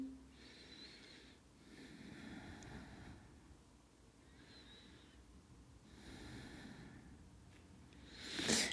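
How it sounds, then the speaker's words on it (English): Slow, deep breaths taken while resting in child's pose during a bedtime yoga stretch, each long inhale and exhale soft and close, rising and falling in a steady rhythm with quiet pauses between. "Let's take a couple of nice long breaths here."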